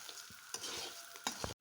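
Rice and cashews frying in a pan, stirred with a few scraping strokes over a soft, continuous sizzle, close and quiet, ending abruptly.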